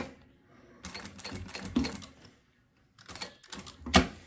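A sewing machine stitches synthetic leather for a women's wallet in short close bursts of rapid mechanical clatter, separated by brief pauses and ending with a sharper knock.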